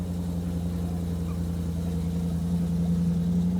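BMW car engine running after a cold start at a large BMW meet, a steady low idle drone with a constant hum that lifts slightly toward the end, moderately loud and without talk.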